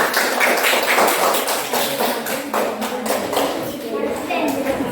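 Classroom applause for a student discussion group, a steady burst of many hands clapping at a brisk, even pace for several seconds, loud and close, with some voices mixed in.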